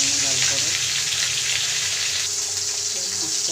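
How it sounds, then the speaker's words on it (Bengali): Sating fish rubbed with salt and turmeric fries in hot oil in a pan, giving a steady, close, loud sizzle and crackle throughout with no talking. "মাছটা আমি ভাজতে দিয়েছিলাম, ভাজা হয়ে গেছে এক পাশটা"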